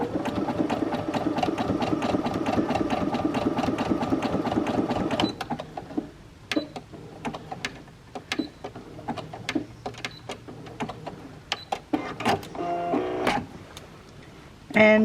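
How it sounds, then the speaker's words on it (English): A sewing machine stitches a short bar tack on the front of a pair of pants, a fast steady run of rapid stitches at first, followed by short stop-start bursts and clicks. "make sure that my bar tacking stitch only will be about 1 centimetre"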